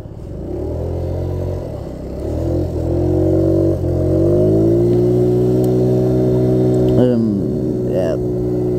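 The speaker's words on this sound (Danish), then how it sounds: "Og så kommer der lige bilen" A car approaches and passes on a Danish road, its engine note rising and shifting steadily, then sweeping past with a brief whoosh near the end; a voice talks over the engine throughout.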